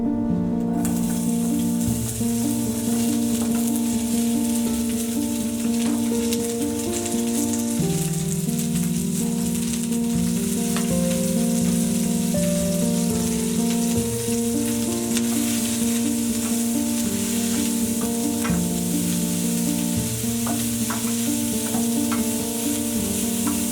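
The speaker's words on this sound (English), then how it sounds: "So I am going to chop this up and I'm going to fry it in some olive oil with some salt, pepper, and some onion powder." Chopped asparagus fries in olive oil with salt, pepper and onion powder in a home kitchen pan, a steady, close sizzle and crackle lasting throughout.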